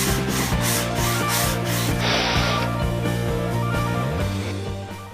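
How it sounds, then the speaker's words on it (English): Plywood is sanded by hand with sandpaper, making a steady, close, scratchy rubbing in repeated even strokes with no talk. "I spent a lot of time sanding all the imperfections out of the wood, especially the plywood"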